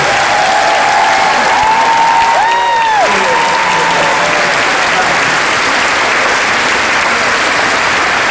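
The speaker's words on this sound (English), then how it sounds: "Thank you to all four of our students. We give them one more round of applause." Audience applause for four students at a school district kickoff event, a steady sustained clapping from a large crowd that holds evenly throughout, with a brief whistle-like tone near the start.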